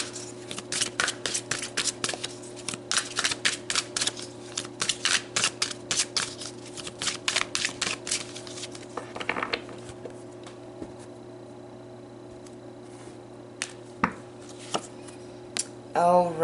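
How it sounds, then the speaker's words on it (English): Tarot cards are shuffled and handled in rapid bursts of crisp riffling and flicking, close and fairly loud, then thinning to a few sparse taps and slides with a brief murmur of speech in the middle. "So let's pull some more cards and dig a bit deeper."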